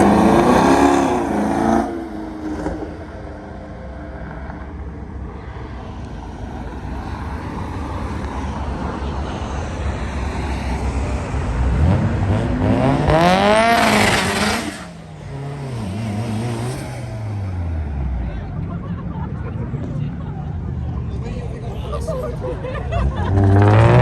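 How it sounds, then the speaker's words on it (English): Cars revving and pulling away from a car meet, engines sweeping up and down in pitch as they accelerate past, with a crowd chattering in the background throughout and a loud pass near the middle. "we're gonna go ahead and record some of the exits of some of the cars at the car meet"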